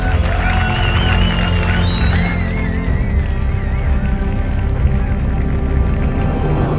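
An audience at a sports award show applauds in a sustained, dense wave of clapping and cheering that holds steady throughout, loud and close, with some voices and a melodic tone rising over the crowd noise.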